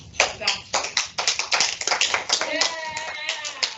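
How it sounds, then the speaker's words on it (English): A small group in a classroom claps after a student presentation, brisk, uneven claps close by that last a few seconds, with some murmuring and voices mixed in toward the end. "Thank you for the sarcastic clap"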